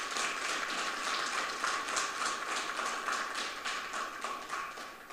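A room full of Ivorian women gathered in New York applauds a visiting ambassador and his wife, a steady, dense wash of clapping from a sizable crowd that holds at an even level throughout without pauses.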